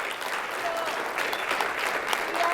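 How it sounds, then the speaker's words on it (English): A crowd at a national school drone racing event applauds a middle school team, brisk clapping heard at moderate level for a couple of seconds. "round of applause for the middle school team"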